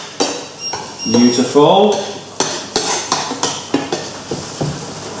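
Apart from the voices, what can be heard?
tomatoes, olives, capers and anchovies added to cooking pan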